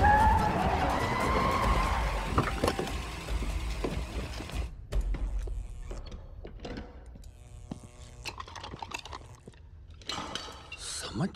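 Car engine and tire skidding in a forest setting, loud sustained screech and rumble at first, then broken up by scattered clatters, thumps and metallic knocks, with people talking.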